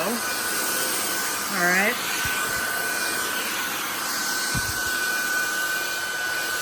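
A cordless stick vacuum cleaner runs on its maximum setting, giving a steady, close whine with a constant high hum throughout. A person speaks briefly over it.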